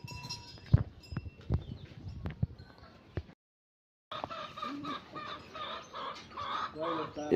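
Farmyard chickens cluck in short, irregular bursts while grain is scattered for them, with faint voices nearby, a brief dead-silent gap, then busier clucking and murmuring.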